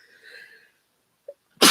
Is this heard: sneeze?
yes